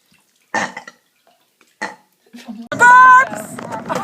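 Loud, drawn-out burp with a strongly tonal, harmonic quality, following a few short bursts of sound and quieter noises; the burp lasts over a second and trails off into softer, rougher noise.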